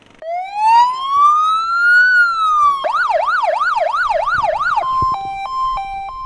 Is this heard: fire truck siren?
yes